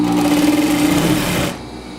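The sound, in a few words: sewing machine stitching a mitered corner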